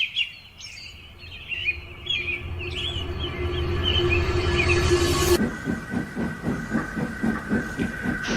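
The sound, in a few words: steam engine 87546 pulling a train into the station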